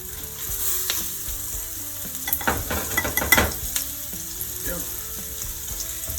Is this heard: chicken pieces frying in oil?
yes